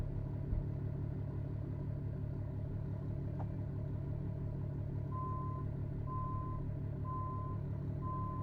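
A truck reversing in American Truck Simulator, with steady electronic backup beeps repeating at even intervals over a constant low engine rumble, no talk.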